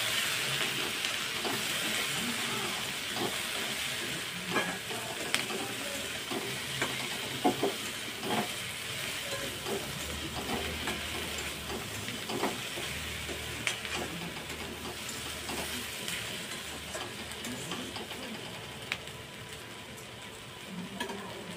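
Turmeric and chilli powder frying in a pan for a Malabar spinach dish, a steady close sizzle and hiss with repeated scraping strokes of the stirring spoon, heard alone without talk.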